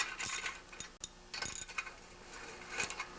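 A ratchet tightens the bolts of a snowblower muffler in short bursts of clicking, with three clustered runs of ratcheting separated by brief pauses. It sounds close and fairly quiet, and no one speaks.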